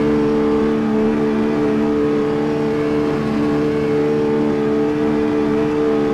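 A steady, droning race-car engine from the CarX Street mobile racing game holds a constant hum at high speed throughout, loud and close with no voices.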